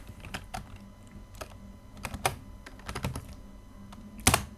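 Someone types on a computer keyboard at close range, with irregular clusters of clicking keystrokes broken by short pauses and one louder final key press.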